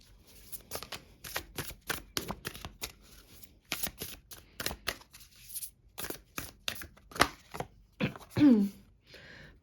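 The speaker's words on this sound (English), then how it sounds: "I'm just gonna get some more oracle cards." Oracle cards are handled and shuffled close by in quick, irregular bursts of papery riffling and flicking, with short pauses between and a brief throat sound near the end.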